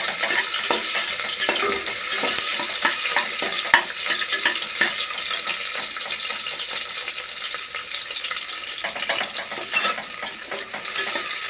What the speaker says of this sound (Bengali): পেঁয়াজ থেকে লাল লাল করে পেঁয়াজটা ভাজবো ভালো করে